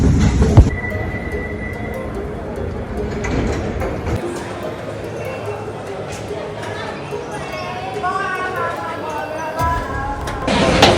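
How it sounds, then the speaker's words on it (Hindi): A London Underground train at a station, loud rumbling wheels and high metallic squeals from the rails, with a brief tonal chime and shifting screeching tones as the carriages move; people can be heard talking over it. "यहाँ से हम ट्रेन चेंज कर रहे हैं क्योंकि हमें पिकाडेली सर्विस जाना है"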